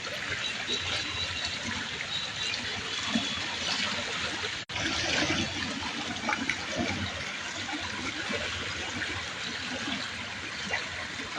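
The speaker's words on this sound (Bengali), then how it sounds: "পানিটা খুবই দ্রুত বেগে নামতে শুরু করছে দেখা যাচ্ছে।" Fast-flowing water of the Manu River in Moulvibazar after heavy rain, a steady broadband rush close by and continuous throughout, with a brief dropout near the middle.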